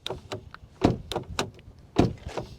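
The front door of a Skoda Superb 2.0 TDI 170 hp is opened, giving several sharp, close clicks and clunks from the latch and handle, loud and separate.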